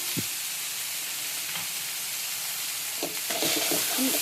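Boiled potatoes frying in a pan give a continuous broad sizzle with a few soft stirring scrapes and knocks scattered through, close and steady.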